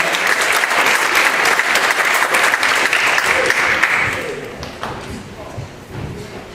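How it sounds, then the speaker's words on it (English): An audience at a public school veterans' event bursts into loud, dense applause that carries on for several seconds, then thins out and fades as some talk starts underneath. "You're right, applause."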